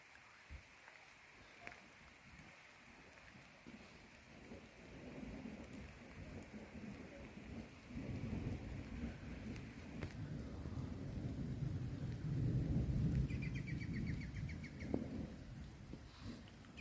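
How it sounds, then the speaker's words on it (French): Distant thunderstorm with steady rain, low rumbling thunder swelling through the second half, and faint bird calls over the rain. "Mais il y a un gros orage au fond en bas."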